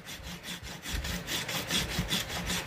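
A stone rasp tool shaves a green sapling bow stave in quick, rhythmic back-and-forth rasping strokes, close and steady, with no talk.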